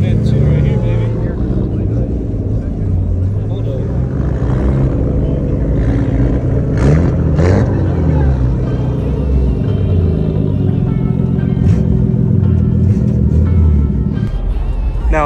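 A car pulls in at a downtown car meet, its engine rumbling loudly and revving through a deep, continuous drone, with people talking nearby.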